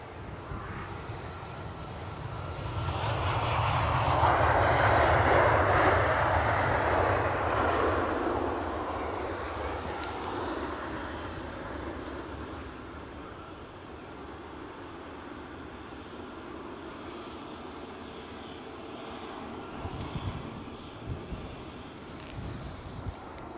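An aircraft from Athens landing at Edinburgh Airport, a jet roar that swells as it passes, peaks loudly, then fades into a lower rumble of engines and wind, with no one speaking.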